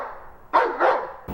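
Pet dog letting out two quick, sharp barks close by indoors, followed by the start of a third.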